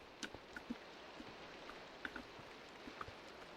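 Steady rain falls at night in a video game, a soft muffled hiss broken by scattered small droplet taps, faint and even throughout.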